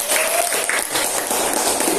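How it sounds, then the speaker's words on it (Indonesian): Classroom of students clapping for a classmate during a physics lesson on heat convection, a dense, even burst of applause lasting about two seconds. "tepuk tangan buat Jesse."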